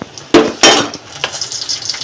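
Stirring taro leaves (kochu shak) in a pan on the stove brings two loud, close metal clanks from the spoon, followed by lighter scraping taps over a steady frying hiss.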